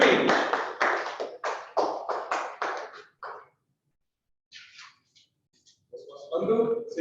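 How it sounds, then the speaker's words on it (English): Audience applause for an area director at a Toastmasters mock speech contest, a burst of scattered claps that fades out, followed by a few isolated claps and then a voice starting to speak. "Please give a big round of applause for our area director"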